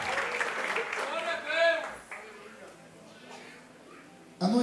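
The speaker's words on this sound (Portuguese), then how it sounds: "Os que podem, tomem seu assento aplaudindo a Jesus porque Ele é bom" A church congregation applauds during a worship service, with a preacher's voice talking over the first couple of seconds. Steady, moderately loud clapping then continues and softens, and a fresh burst of noise rises at the very end.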